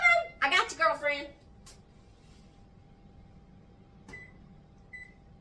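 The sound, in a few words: kitchen oven being switched on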